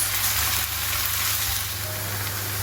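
Raw potato pieces fry in a pan as they are stirred, giving a steady, close, dense sizzle with soft scraping of the stirring throughout, no voices.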